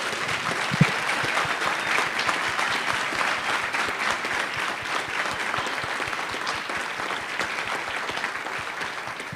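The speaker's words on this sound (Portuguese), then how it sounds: "eu queria pedir a vocês uma salva de palmas para todas as mulheres que aqui estão" An audience at an International Women's Day science event gives steady, sustained applause, with dense clapping from many hands at an even level throughout and a faint voice near the start.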